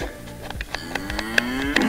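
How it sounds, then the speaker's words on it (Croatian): A cow by a roadside moos in a long, low, drawn-out call that rises slightly in pitch, near and clear, with a few faint clicks around it. "A evo kraj puta, gospođa krava pase"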